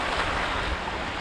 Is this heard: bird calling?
no